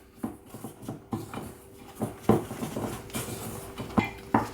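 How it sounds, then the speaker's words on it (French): Cookie dough being mixed in a bowl with a wooden spoon, irregular knocking and scraping thuds repeating every half second or so, close and moderately loud with no talking. "Avec une cuillère en bois, je vais donc mélanger"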